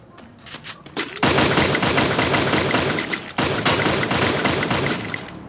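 Video game gunfire rattles in dense, loud automatic bursts. A few scattered shots come first, then sustained firing with a brief gap before it resumes.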